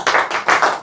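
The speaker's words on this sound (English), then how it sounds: "So clapping for him, appreciate him." Classroom group applauding a student in an activity class, a quick burst of several loud, dense clapping pulses in close succession with no talk.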